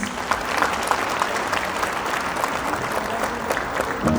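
Audience applause fills an awards ceremony for bloggers at Tashir Arena, a dense, steady clapping from a large crowd that holds at an even level throughout, with faint voices underneath.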